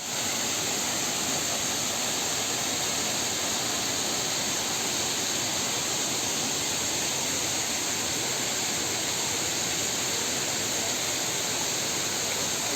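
Water pours steadily over the first tier of Bamni Falls in Purulia, a dense, continuous rushing roar that stays even and close throughout with no voices.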